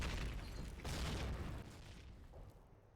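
Grenade explosions in the online shooter Call of Duty: deep, rumbling booms close together, the second blast rolling out into a fading low tail.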